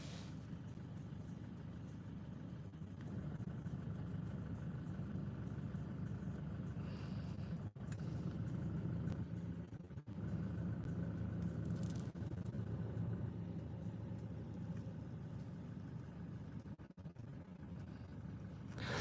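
A Claas Axion 850 tractor engine runs at a steady low rumble throughout, close and continuous with slight fluctuations, heard alone without talk.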